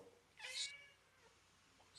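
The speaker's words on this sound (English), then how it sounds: "And there's a kitty again." A single cat meow, short and rising, fairly clear above a quiet room background, followed by near silence.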